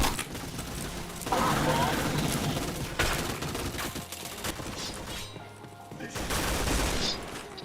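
Shooter video game gunfire, dense rattling volleys and overlapping shots in loud waves, with a person talking over the action.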